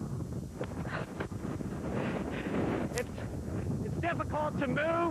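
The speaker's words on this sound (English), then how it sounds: "it's just a constant wind gusting, and it doesn't stop" Hurricane-force wind gusts across a beach, roaring steadily as a loud rushing wall of noise with buffeting bursts, while a person talks close by over it.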